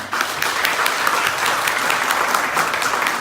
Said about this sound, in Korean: 우리 대사님께 한번 박수를 한번 해주시기 바랍니다